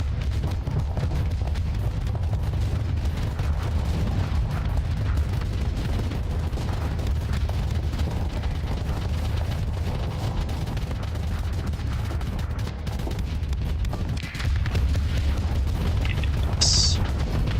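Heavy guns firing in the modded space combat game Starsector, a dense continuous rumble of booms and blasts with low-end weight throughout, steady and loud, with a brief higher burst near the end.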